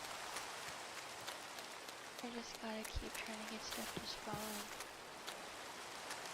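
Rain in the Minecraft Cobblemon game, a steady soft hiss of falling rain running throughout while someone talks over it.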